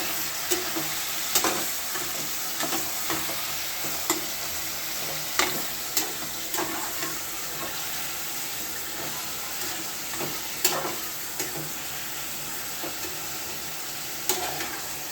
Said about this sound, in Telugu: ఈ విధంగా ముక్కలన్నీ వేసేసుకుని ఫ్రై చేసేసుకోవాలి